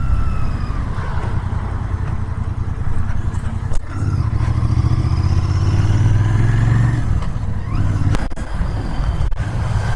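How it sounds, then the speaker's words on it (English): Royal Enfield Interceptor 650 with stock exhaust rumbles steadily while riding on Indian roads, a loud low droning note with wind noise that swells in the middle and drops briefly at moments. "The sound of the stock exhaust is easily heard by somebody who's going in front of you"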